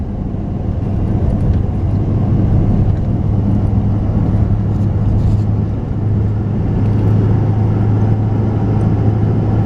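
A car climbs Sarcillo Canyon road toward rural properties, its engine and tire rumble steady and loud from inside the cabin with a constant low drone throughout.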